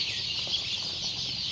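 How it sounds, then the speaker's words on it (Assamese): Many local ducklings and chicks at a poultry farm and hatchery cheeping together in a steady, dense high-pitched chorus, close and continuous with no talk. "এই চাওক, ইয়াত 3000 মান পোৱালি আছে।"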